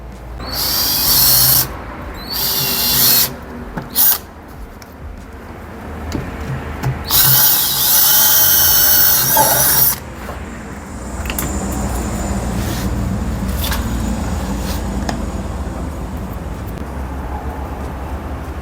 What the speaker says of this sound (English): Have to fix screws.